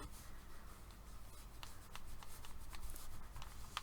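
Marker ink being rubbed into wood grain, a soft steady scratchy friction of the nib moving with the grain, close and quiet with small taps, no talking.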